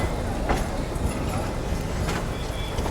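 Narrow gauge train on the Bilimora to Waghai line rumbling along with a continuous loud low roar and faint rhythmic clatter, close by, under distant voices.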